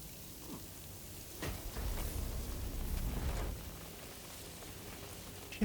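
Soft, steady timefall rain in Death Stranding 2 pattering near a home with a greenhouse, a faint hiss of drops that swells briefly in the middle before settling back to a quiet wash.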